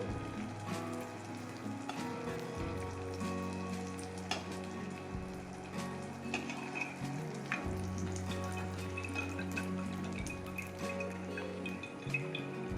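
Gud anarsa, jaggery rice sweets, fry in well-heated ghee with a steady close sizzle and dense bubbling crackle, plus occasional light clinks; no one speaks.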